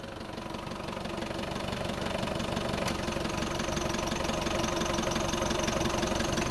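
Mitsubishi Adventure engine idling just after starting: a steady, continuous mechanical hum with a slight knocking texture, close and constant throughout.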